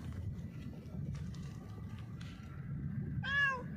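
A single short meow from a white stray cat rises near the end over a faint, quiet background with scattered small noises.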